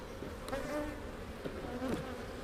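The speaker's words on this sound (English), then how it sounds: "Just dumped a whole pile of bees out." Honey bees from a healthy, honey-filled hive buzz thickly after being dumped out of an opened box, a steady close droning swarm with wavering pitch and no voices.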